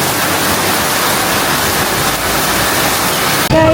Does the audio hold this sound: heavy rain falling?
yes